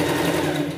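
A sewing machine runs steadily along a pet costume hem, one continuous close whir with a fast even stitching rhythm and no talk.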